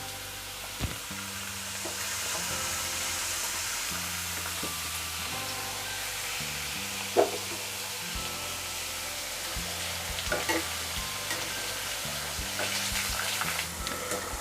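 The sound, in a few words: potato slices frying in hot oil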